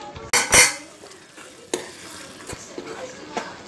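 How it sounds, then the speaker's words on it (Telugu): Ridge gourd curry is stirred in a metal pot, with a spoon scraping and clanking loudly at first, then a few lighter knocks over a faint simmering sizzle. "కూర అంతా కలిసే విధంగా కలిపి మూత పెట్టి"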